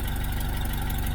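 A classic car engine idles just after starting, a close, steady low rumble with an even pulsing rhythm and no talk over it.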